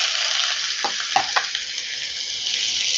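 Chopped onion sizzles in hot oil tempered with spices for a snack, giving a loud, steady broadband frying hiss throughout, with a few quick stirring scrapes near the middle.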